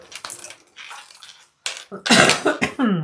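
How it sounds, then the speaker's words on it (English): Several sharp coughs close by, a short burst of harsh bursts near the end, preceded by quieter rustling and handling noises. "I still have a lingering cough."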